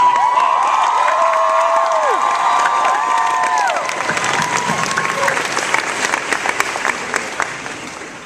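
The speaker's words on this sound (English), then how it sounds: "they deserve a big round of applause" Comic Con panel audience for Supernatural breaks into loud, sustained applause and cheering, with whoops and shouts rising over dense clapping, the cheers fading after a few seconds while clapping carries on.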